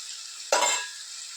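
An ingredient drops into hot oil for prawn masala, setting off a sudden close sizzle that hisses loudly at first and then settles into a steady, softer frying crackle.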